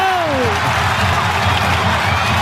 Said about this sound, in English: The crowd will go berserk if he can kick this.